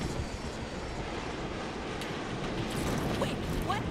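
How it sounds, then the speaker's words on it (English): A fixed-wing airplane in Saints Row: The Third flies close by as a steady broadband engine roar with a rising whine near the end, continuous and loud throughout the short stretch. "I think that plane is gonna try to ram us"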